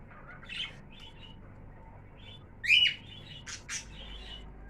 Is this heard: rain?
no